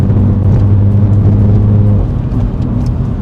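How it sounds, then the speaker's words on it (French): Mini Cooper John Cooper Works with a 230 hp engine accelerating through a bend, a loud, steady low engine drone with harmonic tones that dip slightly partway through, heard from inside the car with no talk. "Comme ça on écoute un petit peu la sonorité des 230 chevaux"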